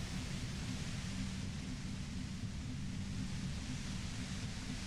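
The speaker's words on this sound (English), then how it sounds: "The violent white noise becomes even more overwhelming closer to the compressor." Dense, roaring white noise from a compressor in the video game Disco Elysium, a loud unbroken hiss with a heavy low rumble, steady throughout with no voices.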